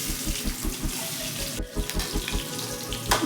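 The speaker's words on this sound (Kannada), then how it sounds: "ಎಣ್ಣೆ ಕಾದಿದೆ, ಫ್ರೈ ಮಾಡ್ಕೋತಾ ಇದ್ದೀನಿ." Sliced onions frying in hot oil in a pan give a steady, close hiss of sizzling with faint scraping over it, and no talk.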